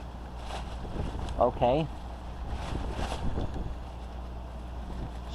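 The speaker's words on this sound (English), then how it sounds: "the wind keeps getting bigger and bigger" Wind blows steadily in gusts, a broad rushing roar with a low rumble buffeting the microphone, and a person speaks briefly partway through.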